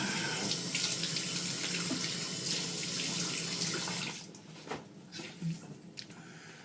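Warm water runs steadily from a bathroom sink tap for about four seconds, a dense loud hiss, then cuts off, leaving faint splashes and drips of face-wetting before shaving.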